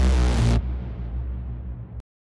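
A deep braaam sound effect built from a wolf howl: a massive, loud brassy blast that cuts off after half a second into a long, dark rumbling tail, then ends suddenly.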